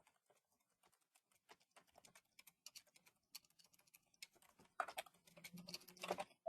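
Fingers type on a new computer keyboard, a quiet, close run of irregular key clicks that grows busier and louder toward the end.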